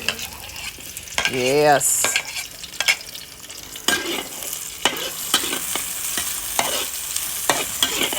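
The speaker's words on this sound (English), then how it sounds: "So now we're gonna put in the garlic and the shallots." Garlic and shallots stir-fry in vegetable oil in a pan while cooking Pad Thai, giving a steady close sizzle broken by scraping stirs and clinks, with a short burst of clatter near the start.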